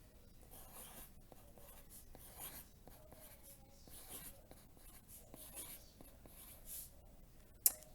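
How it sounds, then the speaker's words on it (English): Pen strokes scratch across paper in short, irregular bursts as coins are drawn and labelled during a math lesson, close and fairly quiet, ending with a sharp tap near the end. "So this is where you start writing on your paper"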